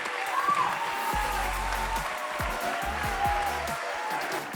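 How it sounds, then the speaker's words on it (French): An audience at a French eloquence contest applauds a special jury prize winner, moderate clapping with deep low thumps and a faint whistle-like tone over it. "On peut l'applaudir."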